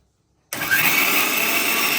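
A mixer grinder whirs to life, grinding coconut with mustard seeds. After a moment of silence it kicks in abruptly with a loud, steady, high-pitched motor whine that holds close and constant to the end.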